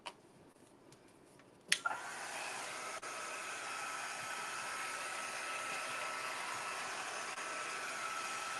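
Hair dryer switched on at about two seconds to dry a fresh coat of paint, then blowing as a steady, fairly close whoosh until the end, after a brief quiet stretch with a few small ticks.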